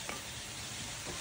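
Squid balls frying in hot oil at home, a steady close sizzle with faint stirring and scooping scrapes through the short stretch, no talk.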